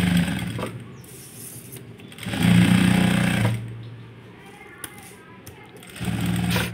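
A sewing machine with a presser foot stitching a maggam work blouse, its motor running in bursts of rapid stitching that rise and fall, with a voice speaking between runs.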